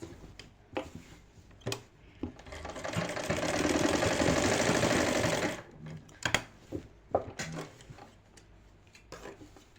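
A sewing machine stitches the hip seam of a kameez in one sustained whirring run, framed by sharp clicks and knocks of handling before and after, close and moderately loud with no talking.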